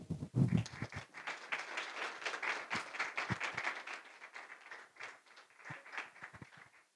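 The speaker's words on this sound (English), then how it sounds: "that was some sustained applause there" An audience at a legal talk on ICOs and cryptocurrency claps for a speaker, heard as a faint, sustained patter of applause that rises early then slowly thins, with a low thump at the very start.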